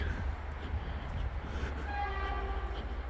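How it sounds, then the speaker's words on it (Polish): A train rumbles past nearby on the Hel Peninsula in Poland with a low steady roar, and a horn sounds toward the end. "Pociąg jedzie."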